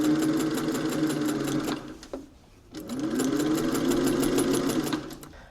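A sewing machine runs a wide 4 mm gathering stitch along fabric edges for a bubble skirt, its needle hammering in a fast, even rhythm, pausing briefly, then restarting and humming on steadily.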